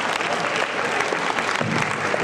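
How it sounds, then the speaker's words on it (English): An anime convention audience at an improv comedy show breaks into loud, dense applause and cheering, a close, busy crowd roar that holds steady through the moment. "Let's hear a real round of applause."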